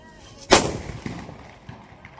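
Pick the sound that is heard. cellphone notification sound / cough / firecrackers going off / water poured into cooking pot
firecrackers going off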